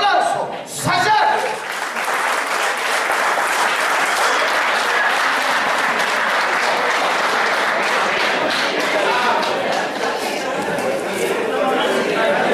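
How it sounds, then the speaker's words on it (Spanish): A large crowd applauds steadily, dense clapping that swells and holds for several seconds with some murmured chatter mixed in. "aplauso"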